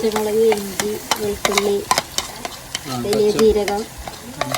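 A spoon scrapes and stirs biryani masala in a pan, sizzling with a series of sharp, close clinks and scrapes in an uneven rhythm, alongside a voice talking.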